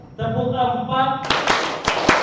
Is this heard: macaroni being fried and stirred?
no